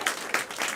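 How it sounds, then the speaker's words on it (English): Studio audience clapping at an improv comedy show, a dense burst of applause with rhythmic swells, loud and close, lasting under a second. "Clap for those suggestions"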